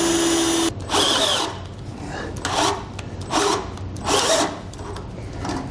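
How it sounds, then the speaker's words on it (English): Power driver sinking self-tapping screws into a steel truck frame rail, with repeated loud grinding, whirring bursts that swell and fade in a regular rhythm, close by. "We're going to try to get our self-tappers to go in through the frame rail."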